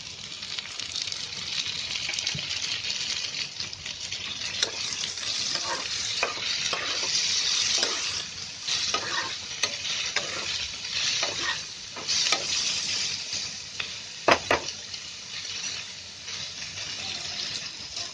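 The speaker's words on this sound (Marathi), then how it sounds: "चांगलं गोल्डन होईपर्यंत चांगले फ्राय करून घ्यायचं आहे" Steady sizzling and crackling of onions frying in a pan, with occasional stirring scrapes, close and continuous with no talking.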